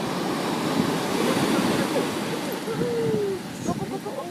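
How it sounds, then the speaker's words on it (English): Ocean surf rolling in and washing back out at Newport Beach Pier, a steady broad wash of waves with wind noise and a few faint bird calls. "then the waves go back down"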